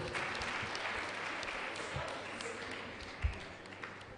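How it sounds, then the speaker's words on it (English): Audience applause at a school quiz competition: soft, diffuse clapping from a room full of people, faint and steady, with a couple of louder knocks near the end and some voices murmuring underneath. "So let's give her a round of applause."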